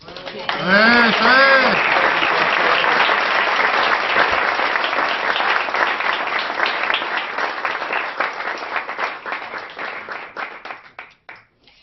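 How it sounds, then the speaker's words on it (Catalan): A small group applauds a spinal cord injury patient for a good weight shift during a physiotherapy step, beginning with a brief cheer and then settling into close, sustained clapping that gradually thins and breaks into scattered claps before stopping. "Quan ell fa bé el canvi de pes, l'aplaudim."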